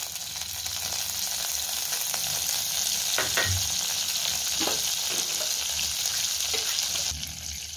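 Butter and garlic fry in a hot kadai with a steady, dense sizzle, and a few spatula scrapes and knocks stand out partway through.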